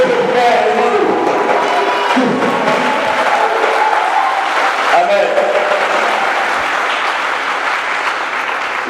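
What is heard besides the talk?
congregation cheering and applauding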